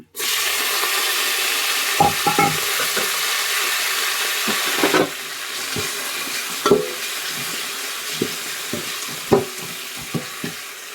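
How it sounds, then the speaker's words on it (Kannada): Curry leaves and coriander leaves frying in hot oil for a garlic-free coriander puliyogare, a steady broadband sizzle with scattered utensil clinks and stirring scrapes throughout, fairly loud and close, no voices. "ಈ ಥರ ನೀಟಾಗಿ ಫ್ರೈ ಮಾಡ್ಕೊಳ್ಳಿ ಅದ್ರ ಜೊತೆ ತೊಳೆದಿಟ್ಟಿರೋ ಕರಿಬೇವು ಮತ್ತು ಕೊತ್ತಂಬರಿ ಸೊಪ್ಪನ್ನ ಹಾಕ್ಬೇಕು"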